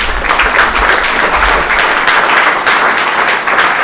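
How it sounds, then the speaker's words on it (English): Steady applause from a crowd at a lecture, dense continuous clapping that holds at full strength throughout without talk. "Give them an applause."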